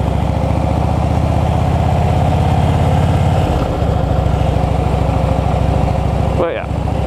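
A motorcycle engine runs steadily during clutch-control practice, with a close, even rumble for about three seconds before the note drops and settles lower, followed by a brief rising flutter near the end.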